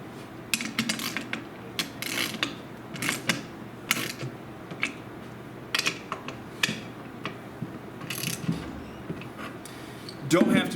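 A Newman roller screenprinting frame being tensioned on a table, giving close, scattered ratcheting clicks and mechanical ticks over a faint background, with a louder clunk near the end.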